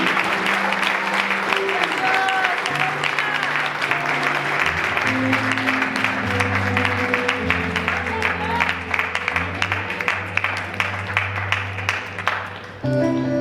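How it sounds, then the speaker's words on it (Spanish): A church congregation applauds during a sermon, steady crowd clapping layered over sustained music, lasting throughout before a brief dip near the end. "Denle un fuerte aplauso al Señor."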